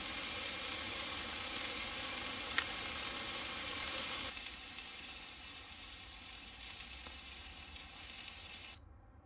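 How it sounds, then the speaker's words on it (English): Steak and potatoes frying in a pan beside a peppercorn sauce kept warm during a winter outdoor camp, a steady dense sizzle lasting about nine seconds, slightly quieter in the second half, with no talk. "Spuds in the pan, steak in the pan, peppercorn sauce, keeping warm."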